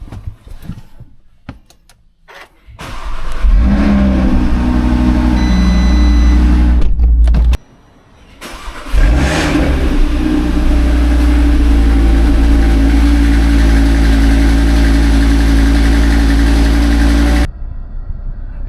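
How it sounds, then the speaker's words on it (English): A high-mileage Audi RS3 fires up from cold with a muffled, subdued start and settles into a steady, droning idle. A short drop partway through is followed by the engine returning to its constant low rumble. "I was hoping to have the aggressive cold start, and I got a muffled cold start"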